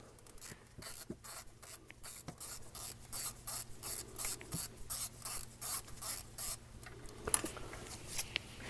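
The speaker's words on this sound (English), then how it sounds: "we're going to start by removing the redirect and its bolt from the left side of the injector itself here. It's going to be a 5mm Allen socket." A ratchet with a 5mm Allen socket backs out an injector redirect bolt on a 2002 Ford F250 Super Duty 7.3L Powerstroke diesel. Faint, quick, repeated clicking runs steadily through the clip, with a few soft knocks and no voices.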